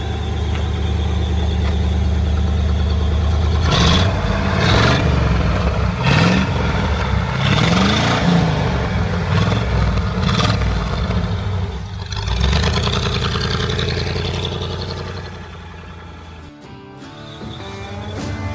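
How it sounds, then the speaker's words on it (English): A 1957 Ford Thunderbird E-Code roadster engine with dual quad carburetors revs hard over and over, a loud throaty exhaust roaring and crackling up close, with a few tire squeals mixed in and no talking. "Check out this exhaust note."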